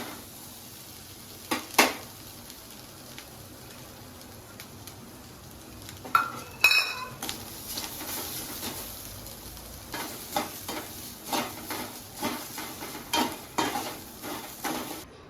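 Ukkarai, a sweet Chettinad dish, being stirred and sautéed in a pan: a low, steady sizzle with repeated scraping strokes of the spoon that come in clusters and grow more regular toward the end, close by and with no talking.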